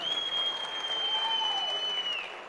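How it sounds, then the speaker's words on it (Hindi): An audience at a network marketing seminar applauds loudly and continuously for a guest, with a thin high electronic whine running over the clapping for most of its length before the applause begins to fade. "मैं चाहता हूँ सर के लिए जरूर जोरदार तालियां होनी चाहिए।"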